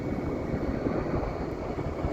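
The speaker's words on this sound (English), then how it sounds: "All these planes are just cruising around like on a highway, like cars on a highway" Airliners taxiing around a busy airport, including Southwest and Delta jets, give a steady, distant low roar of aircraft engines that holds evenly without distinct peaks.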